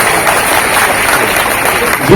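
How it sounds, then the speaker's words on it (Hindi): Steady applause from an audience at a ceremony where appointment letters are handed out, a dense, loud wash of clapping that lasts about two seconds with a voice mixed in. "तालियां"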